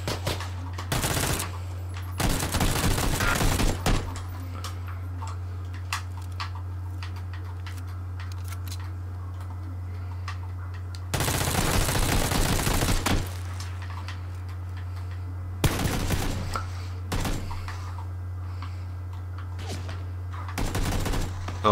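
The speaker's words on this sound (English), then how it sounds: "Someone is shooting at me." Automatic gunfire from PlayerUnknown's Battlegrounds comes in several sharp, loud volleys separated by pauses, over a steady low hum from the game.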